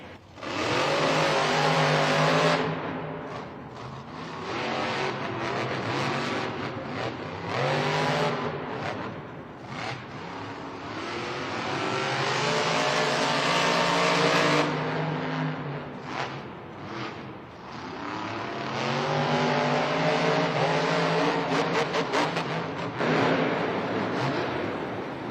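Monster trucks Vendetta and Jurassic Attack race in a stadium event. Loud engine roars rise and fall as the trucks rev and accelerate, with a long sustained drone. Crowd and arena noise sit underneath.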